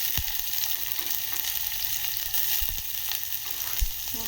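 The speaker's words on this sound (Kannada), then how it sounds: "ಇವಾಗ ಈರುಳ್ಳಿ ಹಾಕ್ತಾ ಇದ್ದೀನಿ." Chopped onions frying in a hot pan, a steady broadband sizzle running throughout with occasional sharper crackles and stirring knocks, close and fairly loud, no voices.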